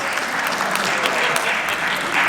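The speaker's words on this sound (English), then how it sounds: "Thank you for the applause." Loud, sustained applause from an audience at a San Diego Comic-Con 2025 film panel, dense clapping that fills the room throughout.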